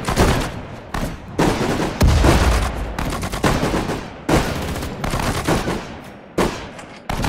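Battle at Dunkirk in Sudden Strike 4 with infantry under fire: rapid machine-gun bursts and rifle volleys crack in repeated loud waves, broken by short gaps, with heavy booms mixed in.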